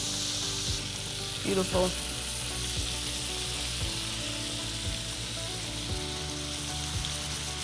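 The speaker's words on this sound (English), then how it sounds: "We're basically kind of deep frying it in the butter at this point" Fish frying hard in a pan with plenty of hot butter, a steady close sizzle throughout with a few soft clinks and stirring knocks, and one brief spoken word over it.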